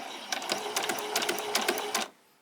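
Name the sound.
sewing machine back stitching fabric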